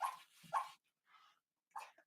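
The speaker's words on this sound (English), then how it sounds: "I have a little puppy in the room with me, and she is dreaming." A sleeping puppy whimpers and yips softly while dreaming, giving a few faint, short whines separated by silent pauses in a quiet room.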